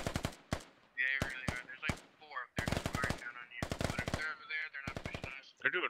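Automatic and single-shot gunfire in the military video game Squad, with Russian forces firing on militia: dense bursts of rapid shots, some in quick strings and some louder and closer, broken by short gaps and mixed with radio-like chatter.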